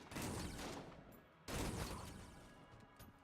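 Gunfire from the video game Enter the Gungeon comes as two dense, sustained bursts of rapid shots. Each burst runs over a second and is fairly faint and muffled.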